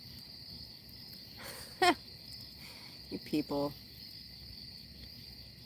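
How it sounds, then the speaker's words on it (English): Outdoor night ambience with a steady, high-pitched cricket chorus that persists throughout, while someone speaks briefly over it. "listening to the crickets"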